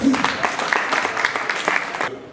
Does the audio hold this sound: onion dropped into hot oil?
no